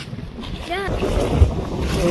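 Strong wind blows across the microphone at a seashore where fishermen work boats, a steady low rumble with gusts through the whole clip, while a voice briefly talks.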